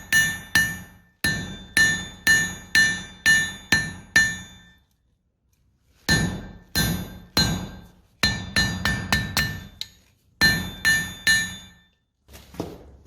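Steel struck with a hammer while forging a scarf joint at a blacksmith hammer-in, ringing metallic blows in quick bursts of five or six, separated by short pauses, close and loud.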